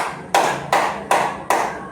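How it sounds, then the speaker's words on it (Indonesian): A student claps her hands four times in a classroom, each clap a sharp, evenly spaced slap with a short ringing tail, fairly close and alone without talk. "Nana tepuk tangan sekali lagi."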